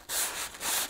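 Two quick abrasive passes of a Damascus steel blade against a grinder, each a close, harsh hiss lasting under half a second, with a brief gap between them and no voices.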